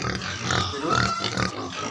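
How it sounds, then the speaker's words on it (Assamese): Pigs grunting and squealing up close on a pig farm in Assam, a busy continuous mix of snorts and higher squeals with no talking. "খাচী কৰিবলৈ লৈছোঁ গাহৰি।"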